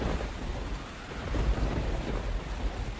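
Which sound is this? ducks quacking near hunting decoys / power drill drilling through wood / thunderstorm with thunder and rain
thunderstorm with thunder and rain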